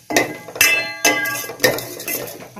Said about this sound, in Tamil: வெண்டைக்காவது ஒரு பிசு பிசு தன்மை போற அளவுக்கு நல்லா வதக்குங்க.